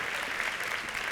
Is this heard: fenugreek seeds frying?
no